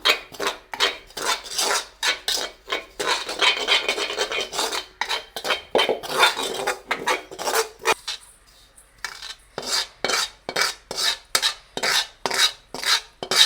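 Coconut roasting in a blackened pan, stirred with repeated scraping and rasping strokes of a ladle against the metal, close and steady in a quick rhythm with a short pause midway.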